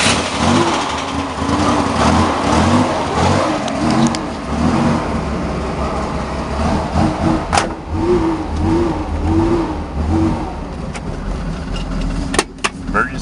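An old Chevrolet Monza engine is cranked up and revved, a loud engine note surging and pulsing through repeated revs, with voices speaking over it and a few sharp clicks near the end.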